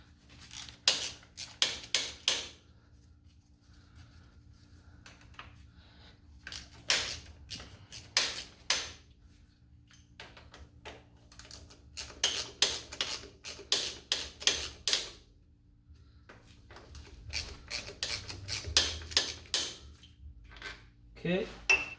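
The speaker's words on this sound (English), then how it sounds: "And a 9/16" wrench or ratchet and socket, and there's 2 bolts here, 2 bolts here." A ratchet and socket work on 9/16-inch bolts of a John Deere A tractor, giving bursts of rapid metallic clicking separated by pauses, close and crisp, with occasional clanks of tools.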